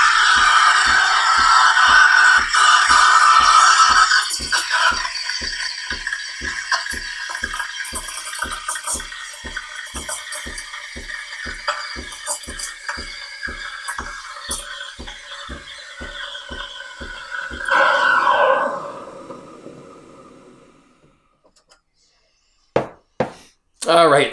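A Breville Cafe Roma steam wand hisses while frothing milk, with a steady airy roar and a regular ticking pulse, fading near the end before a few clunks, as a person talks over it.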